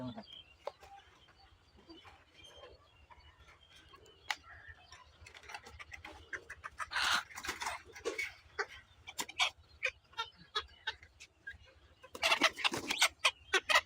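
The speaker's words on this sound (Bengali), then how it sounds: "দেখতেই পাচ্ছেন আমার হাতে একটি মুরগি" Native chickens cluck and squawk nearby in short, irregular bursts that grow busier toward the end, with a low background hum throughout.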